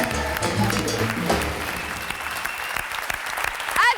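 Applause from a French television audience greeting a singer and comedian, steady clapping with some crowd noise, under faint music at the start.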